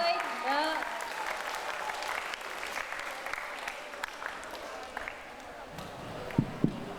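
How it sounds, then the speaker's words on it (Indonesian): Studio audience at an Indonesian healthy-eating talk show claps steadily throughout, a dense mid-level wash of hands with a few sharper slaps near the end; faint voices mingle at the start. "Boleh tepuk tangan dulu"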